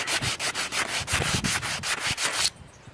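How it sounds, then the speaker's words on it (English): Rapid back-and-forth sanding strokes rasp against wood in a steady rhythm, about five strokes per second, then stop abruptly, leaving quiet. "let me finish sanding it down a little bit more"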